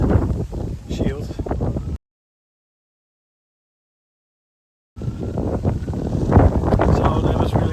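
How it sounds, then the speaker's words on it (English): Strong wind rumbles against a wind-shielded microphone on a long countryside hike near an old dilapidated farm. The low buffeting is heavy and continuous, cut off by a few seconds of total silence before it returns just as strong. "Okay, I hope you can hear me. Because it is quite windy."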